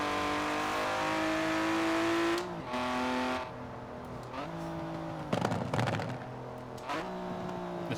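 A BMW E34 M5 drift build in Forza Horizon 4 revs hard with a steady engine drone, drops pitch through several gear shifts, and lets out a brief tire-scrabbling burst mid-run.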